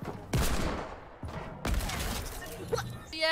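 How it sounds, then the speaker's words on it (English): Hunting rifle gunshots in Fortnite Creative mode, two or three sharp, loud cracks with decaying tails and a brief gap between them. "How am I dying to a person with a hunting rifle?"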